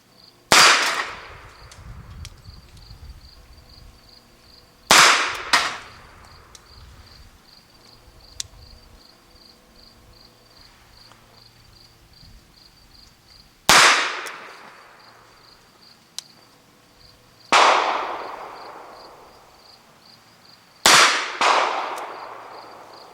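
A Webley Mark IV revolver fires 146 grain Smith & Wesson rounds outdoors: five loud, sharp gunshots at irregular intervals with ringing echo tails, over a steady chirping of insects in the background.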